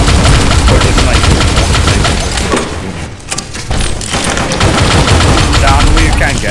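A minigun in Pixel Gun 3D fires a dense, very loud continuous burst of rapid shots close up, dipping briefly in the middle before roaring on.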